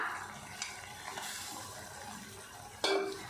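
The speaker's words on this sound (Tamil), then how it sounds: "மீல் மேக்கர் சேர்த்துட்டு நல்லா கலந்து விட்டுறலாம்" Quiet scraping and stirring of meal maker soya chunks in a masala pan with a soft sizzle underneath, ending in a sharper clink of a spoon against metal.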